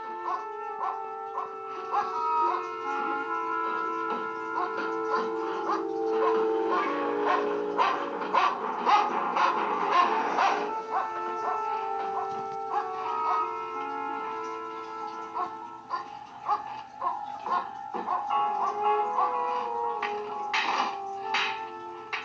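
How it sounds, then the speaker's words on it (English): A dog barks and howls in the 1972 horror film Tales From The Crypt, its repeated yelps set against a sustained musical score that carries on for the whole passage. "That dog is more frustrated than I am listening to him bark."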